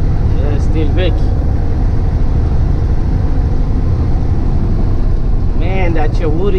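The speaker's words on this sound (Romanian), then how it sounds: "Dar asta, bă, e chiar că e gălăgios." Loud, steady engine drone of an old truck, heard from inside the cab on a road in New Zealand, a dense low rumble that never lets up, with brief tonal whines rising over it.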